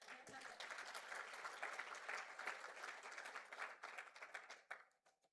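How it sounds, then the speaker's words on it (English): An audience at the opening ceremony of the 2025 Africa Health Collaborative convening claps in a sustained, crowded burst. Individual claps become distinct as the applause thins and fades out at the end. "I feel like that deserves more claps."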